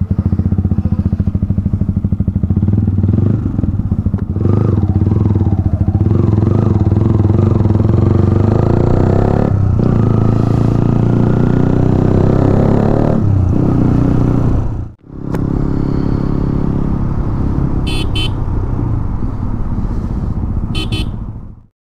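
A Yamaha R15 V3 motorcycle fitted with a loud SC Project exhaust runs with a deep, steady engine drone that rises and falls with the throttle, cuts out briefly, then resumes close to the listener.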